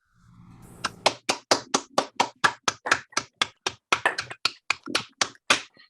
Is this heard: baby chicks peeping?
no